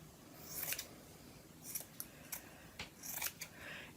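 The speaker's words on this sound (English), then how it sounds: "So continue cutting." Scissors snip through a strip of T-shirt fabric being cut into yarn, a series of crisp close cuts in an irregular rhythm with a soft fabric rustle between them.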